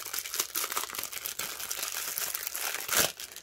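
A package holding items to go with magnets is torn open with steady plastic crinkling and crumpling up close, plus a few sharper tearing rustles and a louder crunch near the end.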